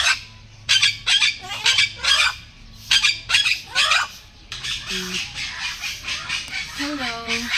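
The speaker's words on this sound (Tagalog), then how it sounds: "Dali, nagsasalita yung parrot to." A talking parrot at Camalig Park lets out loud, harsh squawks in quick repeated bursts close by, then shifts to softer, voice-like tonal calls amid faint background chatter.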